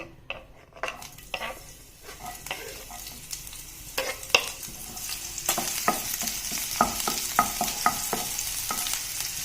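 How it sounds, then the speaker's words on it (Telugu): Green chili and ginger pieces fry in hot oil for homemade samosas, giving a close, dense sizzle that builds in intensity, broken by frequent clinks and scrapes of a utensil stirring against the pan. "ఫస్ట్ పచ్చిమిర్చి అల్లం ముక్కలు వేయించుకోవాలండి"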